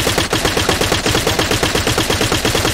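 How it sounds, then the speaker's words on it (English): Rapid automatic gunfire in Arma 3, loud and close, a continuous string of evenly spaced shots with no gaps. "Hearing gunshots out to the right."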